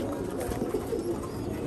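Pigeons coo softly in a loft, low murmuring calls blended into a dense, steady background of flock noise and rustling, with no talk.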